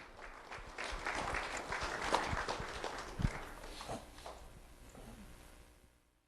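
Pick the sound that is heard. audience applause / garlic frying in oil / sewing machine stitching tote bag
audience applause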